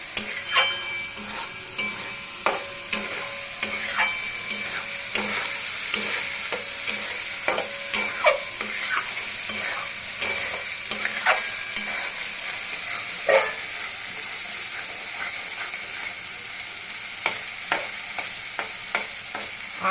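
A spice paste for egg curry fries in oil that has separated from the masala, with a soft continuous sizzle and repeated scraping taps of a spoon stirring in the pan, quiet and close, with no talk.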